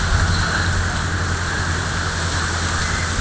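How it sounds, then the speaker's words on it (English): Heavy rain falls steadily and loudly in Borneo, a dense unbroken wash of drops on surfaces with a low rumbling hum underneath, no voices present. "It's still raining, even though it was a car."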